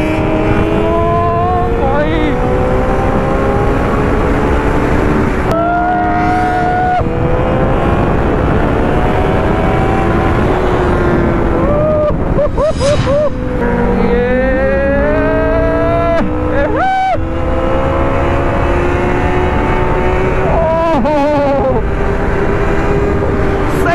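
A Kawasaki ZX10R sport motorcycle engine screams at high revs during a wheelie, loud and continuous, its pitch rising and falling repeatedly as the rider works through gears and throttle.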